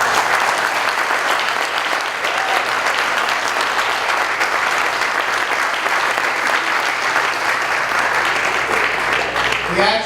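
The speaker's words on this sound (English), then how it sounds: "another round of applause for our honorees" An audience gives loud, sustained applause for honorees at a community health hero awards ceremony, a dense, even roar of many hands clapping for ten seconds, with voices audible in the crowd.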